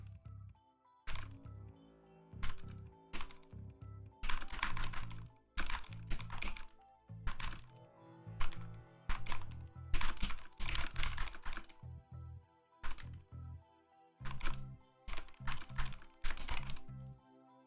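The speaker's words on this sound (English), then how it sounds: "I've done the typing." Fingers tap on a computer keyboard in quick, uneven bursts of close clicks, with short pauses between flurries and no voice.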